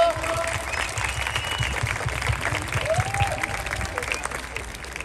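An audience at a friendly soccer match with a penalty-kick showdown breaks into sustained clapping and some cheering, a steady crowd wash with a few whistles and voices mixed in.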